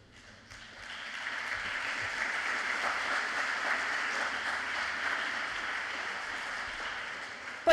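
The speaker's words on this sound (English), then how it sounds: "I think we should applaud that." Audience applause at a science lecture swells within the first second into sustained, even clapping from a sizeable crowd that holds steady to the end, with no voices over it.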